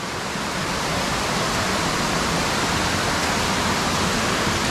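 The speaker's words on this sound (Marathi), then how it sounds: "हे बघा कसे मस्त धबधबे वाहत आहेत आवाज येतो तुम्हाला" Waterfalls pour down the hillsides above a village, a dense, steady rushing roar of water that holds evenly throughout with no voices.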